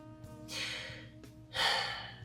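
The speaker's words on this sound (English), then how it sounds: "breathing and taking these shallow breaths where our shoulders come up, our chest expands." Two breaths taken through the mouth, each a soft airy rush rising and fading, spaced about a second apart and close up, over a low steady hum and with no talking.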